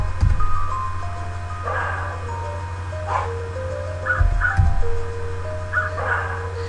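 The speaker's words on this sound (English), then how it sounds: "And trying to avoid those crows." Harsh cartoonish crow caws sound in short bursts within the Reflex math video game, repeating several times over steady game music with low thumps and chiming tones.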